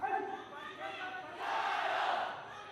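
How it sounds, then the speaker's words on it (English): Arena crowd at a women's 52kg sanda final at the world wushu championships yells and cheers for a Chinese fighter, a broad roar that rises midway and stays loud. "you hear the crowd cheering on their countrywoman"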